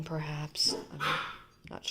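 Several dogs barking in short bursts across the clip, close by, mixed with a person talking.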